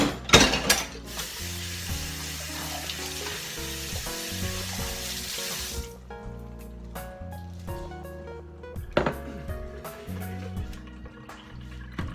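Meat frying in a pan, a loud continuous sizzle with stirring clatter that drops in intensity midway, leaving softer crackles and scattered utensil taps close by.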